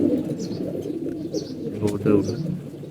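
Pigeons coo in soft, repeated throaty calls close by, rising and falling in short phrases over a low murmuring background.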